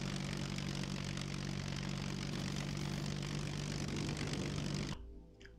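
A propeller plane engine in the Scum video game drones steadily as the aircraft glides in to land, with a loud, even hum that drops away abruptly near the end.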